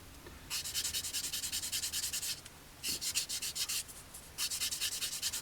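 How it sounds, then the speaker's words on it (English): A sanding sponge rubs over a plastic model kit of a Harrier GR3, three bursts of quick back-and-forth scratchy strokes separated by short pauses, close and quiet with no talking. "the beauty of using the sponge side is that it conforms to the shape of the object you're sanding"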